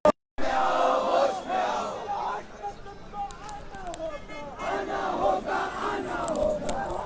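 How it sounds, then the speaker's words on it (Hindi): A crowd outside Jamia chants slogans against Delhi Police in loud, rhythmic, repeated shouts that rise and fall in waves after a brief silent start. "दिल्ली पुलिस के खिलाफ नारेबाजी"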